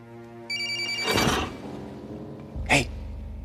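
A mobile phone ringtone chimes in a church, a repeating electronic melody that starts and keeps playing under sharp, close bursts of rustling and movement.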